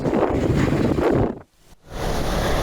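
Strong coastal wind at Bau-Bau on Buton during high waves, buffeting the microphone in loud rushing gusts with a brief lull near the middle before the roar resumes.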